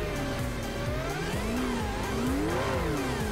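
A McLaren P1 in Project Cars 2 revs loudly and steadily, its pitch rising and falling through repeated engine sweeps and gear changes, with a sharp climb near the end and no voices.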